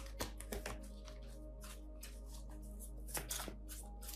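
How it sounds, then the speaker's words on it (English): Tarot cards shuffled by hand in a quiet room, a soft papery riffling with a few sharper slaps of the deck, close and alone over a faint steady hum. "I'm just going to shuffle till it feels right"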